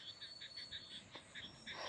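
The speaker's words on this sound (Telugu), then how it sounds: "కప్పలు బెకబెకమంటున్నాయి పొలటి పొలాల్లో ఉన్నా" Frogs croak from paddy fields in a steady, rhythmic run of short pulses, faint and distant, with no talking.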